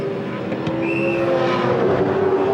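A 2007 V8 Supercar slides through a turn in second gear at the Queensland 300, its engine droning loud and steady with a brief high tire squeal, close and with no voices.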